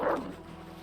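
A dog attacks the player in the survival video game Vintage Story: a single short, close bark or yelp at the start, fading quickly into low background hum.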